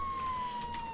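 Police car siren in a heist video game, a steady high electronic wail held at a constant pitch for about a second, fairly faint and distant over a low game background hum.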